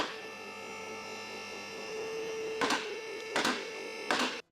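A vehicle lift raises a 1999 Honda Civic EK with a steady electric motor hum and a faint whine. Three sharp, loud bursts break in over the final two seconds before it stops abruptly.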